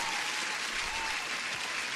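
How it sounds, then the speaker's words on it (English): Applause from an audience, a steady soft wash of clapping that stays even and fairly faint throughout, with no voices over it. "Huge applause to Methodical Man"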